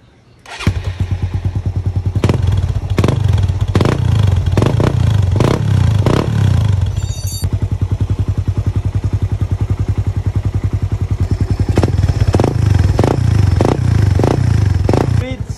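A motorcycle fitted with a new aftermarket silencer exhaust idles loudly up close, then revs in a run of sharp repeated throttle blips, settles back to a rumbling idle, and blips again toward the end.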